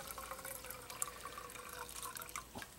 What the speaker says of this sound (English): Add some water to the bottle.